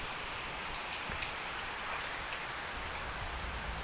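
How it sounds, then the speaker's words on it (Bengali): Heavy rain pours steadily on a tin-roofed village building, a dense continuous hiss of drops drumming on surfaces close by, with no voices. "এখনও বৃষ্টি থামার কোনো নামগন্ধও নেই। প্রচুর বৃষ্টি হচ্ছে।"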